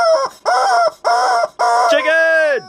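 A squeezed toy rubber chicken lets out four loud, close squawks in quick succession, each a nasal honking blare, the last one longer and sliding downward in pitch.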